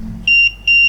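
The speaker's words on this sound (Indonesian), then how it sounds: "LED dan beep 2 kali," Buzzer on an Arduino Nano pure sine wave inverter with voltage feedback regulation and protection gives two sharp, loud high-pitched beeps of equal length, separated by a short gap, over faint background hum.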